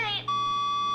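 A phone rings in the video game The Stanley Parable, a loud electronic trill that gives way to a sustained steady beeping tone, close and alone.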